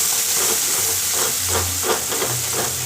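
Onion paste frying in oil for a doi katla curry gives a close, steady sizzling hiss that continues without a break, with no one speaking.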